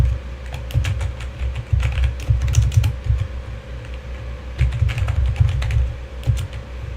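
Fast, uneven clatter of keys on a computer keyboard, close and fairly loud, running in two long bursts with a short lull between and a steady low hum underneath.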